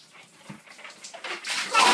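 Shower water starts running, a hiss that begins faint with a few small knocks and swells louder toward the end.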